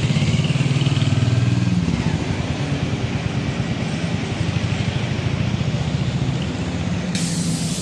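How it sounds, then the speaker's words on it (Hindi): A Royal Enfield Hunter 350 single-cylinder motorcycle pulls away on a test ride, its engine thumping loudly close by with a steady rumbling pulse and some rattle, staying strong throughout. "अभी भैया टेस्ट राइड के लिए जा रहे हैं"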